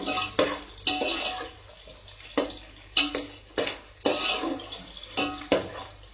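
Onions sautéed in a pan until brown, heard as loud repeated clanks and scrapes of a spoon against the pan every second or so over a low sizzle, close by.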